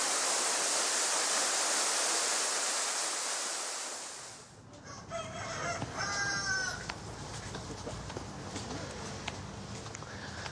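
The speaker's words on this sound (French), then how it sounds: "Il y a la rivière, il y a la cascade." A river waterfall in a Tahiti valley roars as a loud, broad rushing wash for several seconds, then drops away to quieter surroundings where birds, including a rooster, call.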